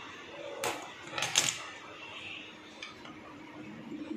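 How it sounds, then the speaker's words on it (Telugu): A pan, a tawa, is set down on a stove with a few sharp metallic clanks, followed by faint scraping amid quiet kitchen room noise. "స్టవ్ ఆన్ చేసుకొని పెనం పెట్టుకున్నా."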